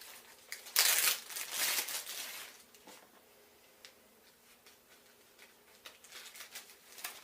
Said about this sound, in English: we're going to fold this over because it's not going to fit in our plastic bag